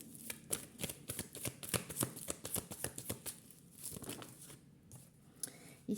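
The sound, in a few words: shuffling tarot cards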